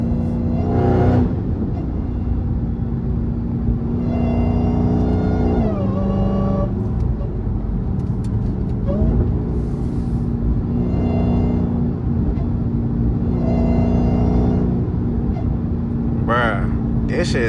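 A Dodge Hellcat with its Redeye intake missing rumbles deeply and surges in repeated hard acceleration pulls while driving, loud and close from inside the car, with someone talking between revs.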